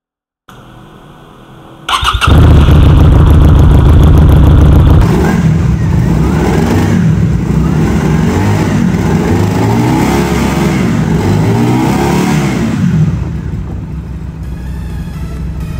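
A 182 kg bobber motorcycle engine starts up and revs loudly, holding a strong throaty rumble for several seconds before easing back to a steady idle.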